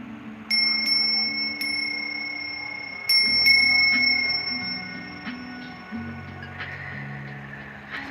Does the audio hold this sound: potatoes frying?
no